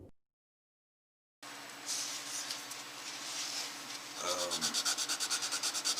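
Sanding a guitar fretboard by hand, a steady close rasping rub that settles into quick even back-and-forth strokes near the end, with no talking.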